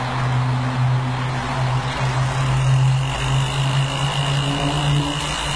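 An electric fan blowing into the firebox of a small charcoal-fired model steam train, a steady close whirring hum with a low motor drone and airy rush, continuous and fairly loud.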